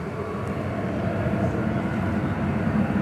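American Airlines Boeing 737-800 jet airliner at DFW Airport in the evening, a steady broadband engine roar that holds for three seconds without breaks, moderately loud and somewhat distant.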